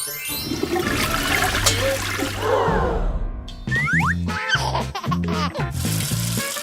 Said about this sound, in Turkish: çok fazla su kullanıyorsun